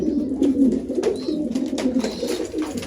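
A pigeon coos steadily, its low soft calls repeating close by with no talking.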